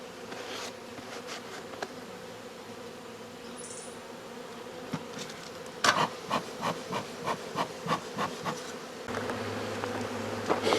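Wild honeybee colony in an old hickory log, a steady insect buzz around the open hollow, broken by a run of sharp rhythmic knocks or chops on the wood near the end.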